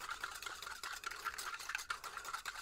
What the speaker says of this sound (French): On le disperse, on le dissout dans l'eau.